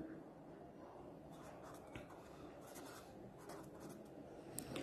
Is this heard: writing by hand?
yes